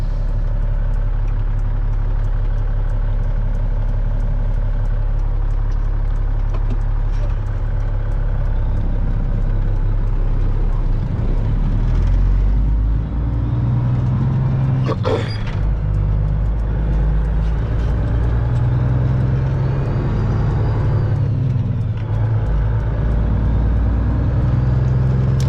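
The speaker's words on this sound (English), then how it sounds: "So got a car coming." From inside an idling Peterbilt 379 truck during fertilizer hauling, a car approaches and passes, a gradual swell of road noise peaking around the midpoint with a sharp clunk, over a loud steady diesel rumble.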